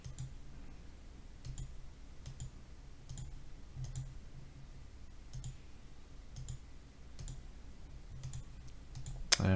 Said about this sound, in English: Now you can get rid of any of these just by clicking on the X here and deleting it.